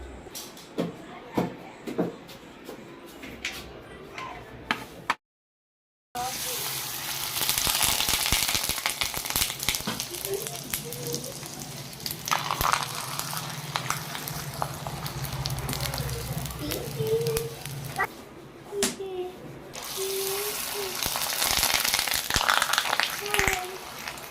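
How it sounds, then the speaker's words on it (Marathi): Sabudana (sago) papad fries in hot oil with a continuous bubbling sizzle. A few clattery knocks come at the start, and someone talks over the frying. "मी तुम्हाला आता हे तळून दाखवते"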